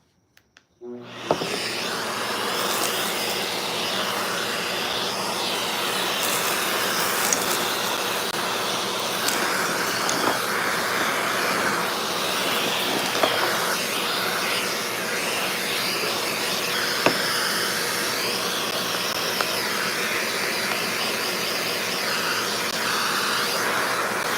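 A vacuum cleaner starts abruptly and runs with a loud, steady whooshing roar while cleaning up a work area after a coffee grinder repair, close and continuous with slight fluctuations in pitch.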